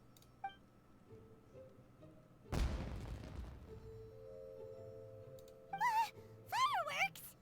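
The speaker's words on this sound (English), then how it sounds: "Was that an explosion? It sounded like fireworks." Fireworks going off in the Genshin Impact video game: one sudden loud burst partway through that trails off into a fading crackle, followed by brighter tonal game effects.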